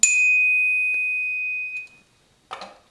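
A Ravemen Q2 bicycle bell gives one bright, sustained metallic ring that fades over about two seconds, followed by a brief softer clatter near the end.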